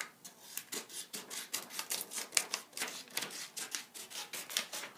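Crisp, rapid snipping strokes in a steady rhythm, close up, of scissors slicing through paper, with no talking.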